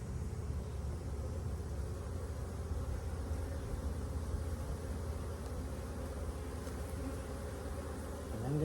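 Dense, steady buzzing of many honeybees around an opened, queenless hive, a continuous droning swarm sound close by with no talking.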